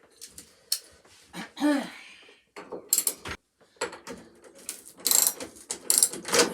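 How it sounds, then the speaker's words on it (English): Bolts are loosened with a ratchet tool during a van conversion, giving bursts of clicking ratchet pawl and metallic mechanism noise in irregular close-up spurts with short pauses between them. "Making sure I can loosen them all before I take it off."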